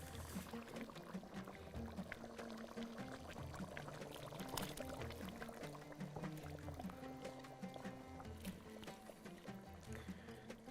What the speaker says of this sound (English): Now I'm going to add the rice.